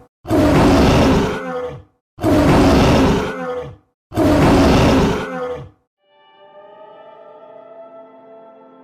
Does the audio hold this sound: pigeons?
no